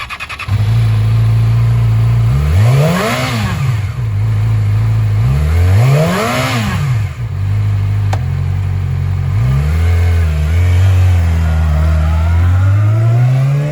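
A used 2015 Yamaha YZF-R6 supersport motorcycle idles loudly up close, its engine revved hard twice in rising and falling sweeps, then settling back to a steady idle with a lighter blip near the end.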